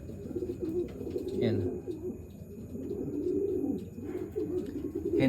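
Racing pigeon hen, blind in one eye, cooing softly near the microphone amid other birds' calls and a brief spoken word, steady low murmuring throughout.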